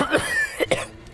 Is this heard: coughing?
yes